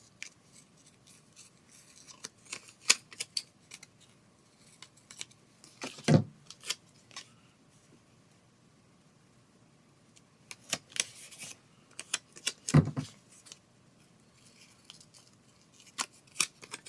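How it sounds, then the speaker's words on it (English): Scissors snip through paper while trimming the overhanging edge of a creative journal page, with a few separate bursts of quiet, crisp cutting and small paper rustles in between, no talking. "Trim off some of the offset."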